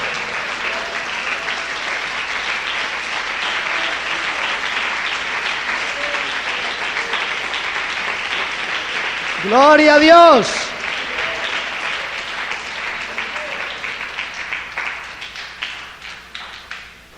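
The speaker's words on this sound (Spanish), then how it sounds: "Dale un aplauso al Señor" A church congregation applauds the Lord in steady, sustained clapping. Partway through, a voice calls out a praise over it, and the applause then slowly thins out.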